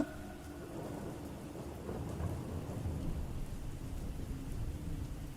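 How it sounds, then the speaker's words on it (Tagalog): Heavy rain pours steadily in a dense hiss, with a deep rumble of thunder rolling underneath. No voices. "Wala rin akong ibang marinig kundi ang malakas na ulan."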